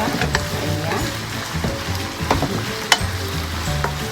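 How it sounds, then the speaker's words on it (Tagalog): Shrimp sizzling and frying in a hot pan for palabok, a steady dense crackle with occasional stirring clicks and scrapes throughout. "lagay na natin yung hipon para medyo maluto na siya"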